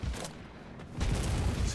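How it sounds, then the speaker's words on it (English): Gunfire in the video game Bloodborne comes as dense, loud, booming bursts that fill the sound, with a heavier volley after a brief dip. "A little bit of shelter from the gunfire."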